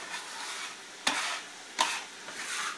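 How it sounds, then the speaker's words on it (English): Onions and garlic go into sausage browning in a pan, a soft continuous sizzle broken by two or three scraping stirs, close and fairly quiet. "now halfway through my browning of my sausage, what I'm going to do is take and throw in my onions and my garlic"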